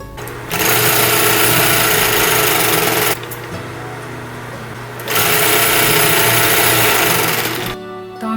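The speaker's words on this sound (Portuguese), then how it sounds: "Agora nós passamos os overlocks aqui, né, nas 2 costuras" An overlock machine stitches the seams of a circle skirt in two loud, steady whirring runs of a few seconds each, separated by a quieter pause, with fabric rustling at the end.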